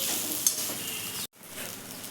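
Spiced tempered idli is stirred and mixed in a pan on the gas, a soft scraping and light sizzle with a small clink near the start, cut off by a brief gap before the stirring continues.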